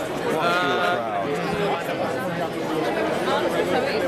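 Dense crowd chatter on a summer night in Budapest, many voices blending into a steady, close babble as someone walks slowly through the throng.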